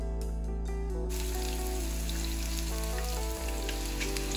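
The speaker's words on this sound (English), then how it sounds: "Add chopped garlic, chopped green chili, and chopped onion. Cook them until they are golden brown." Chopped garlic, green chili and onion frying in a pan for saag, a steady close crackling sizzle with dense popping texture that runs unbroken from start to finish, nobody speaking over it.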